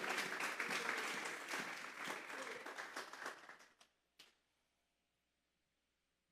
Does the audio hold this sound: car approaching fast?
no